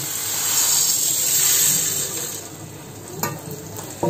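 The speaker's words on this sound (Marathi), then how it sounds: "जरा गॅस मोठा करते आणि मग मिरी याच्यावरती परतून घेते" Black peppercorns roasting in oil in a wok, a steady loud sizzle and hiss with a few stirring scrapes near the end.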